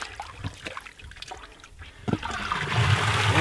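Water flows out of a cracked fitting on a buried irrigation main line in a field, starting as faint trickling and dripping and then swelling into a louder steady gush, close by with no speech.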